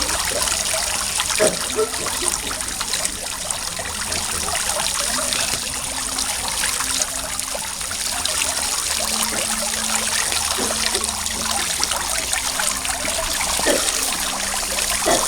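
Flowing stream of water trickling and splashing steadily, fairly close and continuous, with a faint low voice speaking softly in the background.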